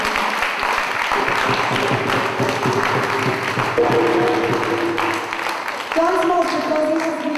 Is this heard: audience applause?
yes